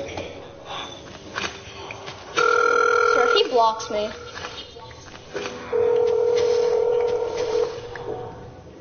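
A telephone rings and dial tones sound in two bursts amid talk, first with a two-tone ring and then with a long steady tone, heard up close.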